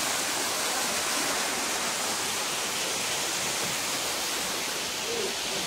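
Water falls from above inside a cave at Cherrapunji, a steady, dense rushing roar that stays even and unbroken throughout, with no clear voices over it.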